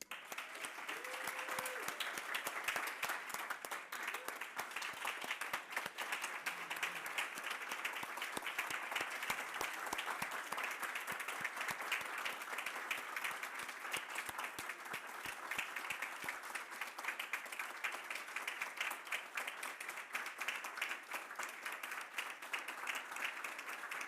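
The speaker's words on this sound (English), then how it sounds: "Please join me in a round of applause for this year's winners" A long, unbroken round of audience applause for award winners at a university social work alumni association ceremony, dense crackling claps holding at an even level for the whole stretch.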